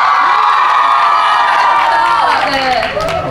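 A large crowd at an Adidas event cheers loudly for footballer Son Heung-min, with high shrieks and shouts blending into a continuous roar, plus some clapping and a voice underneath.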